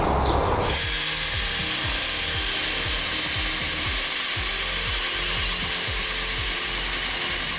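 Sanding a surface by hand with 400 grit sandpaper, heard as a steady, close rasping rub with regular back-and-forth strokes throughout, alone with no talk.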